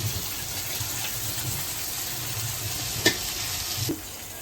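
Pomfret fish frying in a pan, giving a steady close sizzle and hiss throughout, with a couple of short clinks and scrapes near the end.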